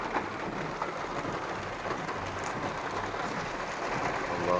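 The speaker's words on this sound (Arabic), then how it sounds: "دبي مطر مو طبيعي" Heavy rain pours down in Dubai, a loud, dense, constant hiss of water on surfaces that holds steady for several seconds with no voices.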